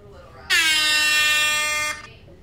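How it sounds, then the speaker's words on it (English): A loud air horn blast played from a phone app sounds for about a second and a half after a quiet start, then cuts off abruptly. "Right now I am searching for the air horn sound on here"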